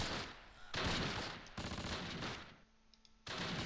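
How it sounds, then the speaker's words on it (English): Gunfire in the wartime strategy game Close Combat Last Stand Arnhem, with dense bursts of machine-gun fire and rifle shots in loud, sustained volleys, broken by a brief quieter gap. "Bobby, please shoot."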